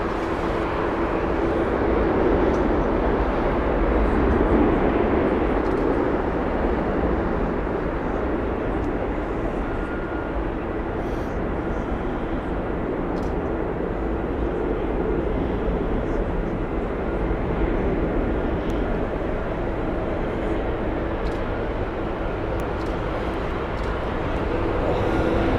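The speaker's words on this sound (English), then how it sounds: "It's the Tampa flight, and it's the -9 of the A350." Airbus A350-900 airliner on the Tampa flight approaching Heathrow Airport, a broad, continuous jet roar holding steady at moderate distance for the whole stretch.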